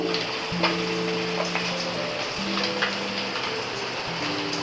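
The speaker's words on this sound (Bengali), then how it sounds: "এটা রুই মাছ, মাছটাকে ভেজে নিচ্ছি।" Rohu fish frying in a pan on a home stove, a steady crackling sizzle of oil throughout with a low electrical hum beneath and faint clinks, no voices.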